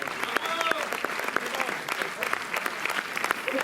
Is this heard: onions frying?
no